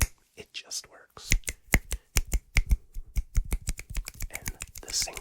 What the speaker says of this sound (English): the single finger snaps can be done all around the microphone